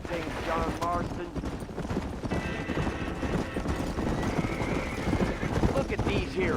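Horses in the Western video game Red Dead Redemption whinny and neigh over a steady clip-clop of hooves, with rough ambient noise and people talking throughout.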